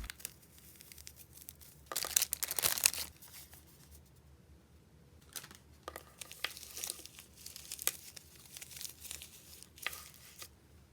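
A small plastic baggie from a slime package crinkles and rustles up close in bursts, loud crackling handling around the start and again in repeated scrunches later, with quiet pauses between and no talking.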